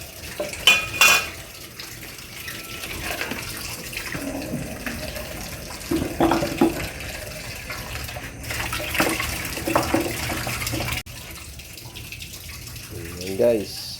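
Catfish being washed under a running tap at a sink, with water splashing and pouring steadily and the odd clink of a pan, while people talk nearby.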